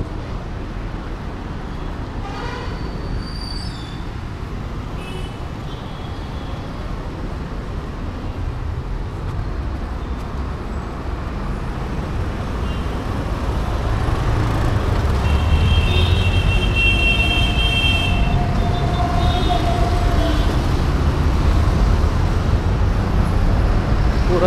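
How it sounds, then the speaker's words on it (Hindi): Steady road traffic with a vehicle passing nearby, a broad low rumble that swells louder toward the end, recorded outdoors in a busy street with no talk over it. "गाड़ी है, गाड़ी"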